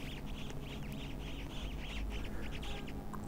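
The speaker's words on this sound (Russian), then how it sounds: "Самая распространенная это утка." A pet duck in the Roblox game Pet Simulator X quacks repeatedly in a steady rhythm, faint game sounds underneath, no talk.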